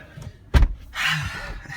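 A 2017 Acura NSX car door gives a sharp solid thunk, followed by a softer rustling and shifting sound from inside the car.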